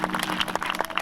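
Audience at a wedding clapping in praise, a quick run of close, crisp claps from several people, dense and continuous for a brief moment.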